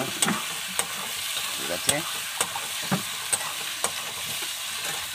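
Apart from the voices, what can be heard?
spice paste being stir-fried for chicken curry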